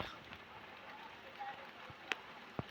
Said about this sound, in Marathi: हे बघा मंडळी पाऊस हे बघा